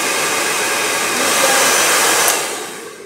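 A hand-held blow dryer runs close by with a steady loud whoosh of air, swelling slightly in the middle before easing down.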